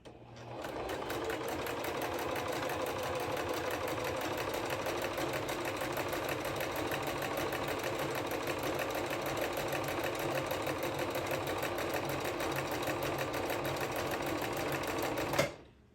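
A Necchi Q132A sewing machine runs steadily for about fifteen seconds while embroidering with an embroidery foot, making a continuous, loud, even mechanical whir that cuts off abruptly at the end; there is no talking.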